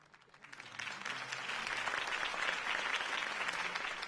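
In Batman: The Telltale Series, a crowd gives sustained applause after Harvey Dent's campaign speech, building quickly from scattered claps into a steady, full roar of clapping.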